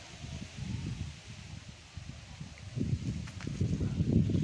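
A breeze on a rooftop sets leaves rustling in a steady, soft wash that swells louder toward the end, close by and with no voices.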